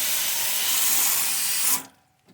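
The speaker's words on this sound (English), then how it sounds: "Just a good stream of water. Angle it down. Take all the dirt down to the bottom." A strong stream of water from a hose sprays across an air conditioner unit to wash off dirt, a loud steady hiss that cuts off abruptly near the end, leaving near silence.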